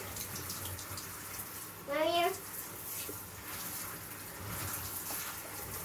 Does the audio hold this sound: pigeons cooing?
no